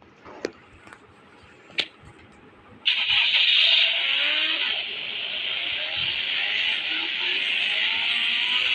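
A car engine in a video game, its exhaust shooting flames, stays quiet apart from a couple of brief clicks, then roars in at about three seconds and holds a loud, steady revving drone to the end.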